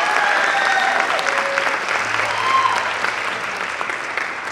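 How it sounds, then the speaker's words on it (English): Audience applause at a jazz festival, a steady sustained wash of many hands clapping from a large crowd, loud and continuous, with faint voices mixed in. "So let's give our percussionists a round of applause as well."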